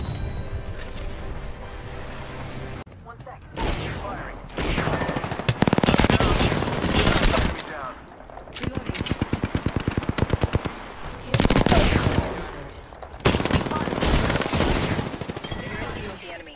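Rapid automatic gunfire from Apex Legends fills the scene in loud, dense bursts, broken by short pauses and sharp impacts, with a voice speaking over the shooting.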